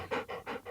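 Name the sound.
dog panting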